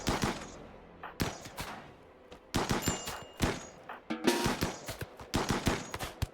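Gunfire in the video game RimWorld, rapid bursts of close, sharp shots in irregular volleys with short pauses between, and no voices over them.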